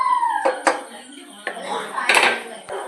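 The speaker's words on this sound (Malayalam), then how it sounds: "നമ്മൾ നേരത്തെ ബാക്കി വെച്ച പാലും കൂടെ ഒഴിച്ചു കൊടുക്കാം നന്നായിട്ടൊന്ന് മിക്സ് ചെയ്യാം" Milk being poured into a cooking pan and mixed, with sharp metallic clinks of a spoon against the pan and a few scraping stirs, close and moderately loud, with no talking.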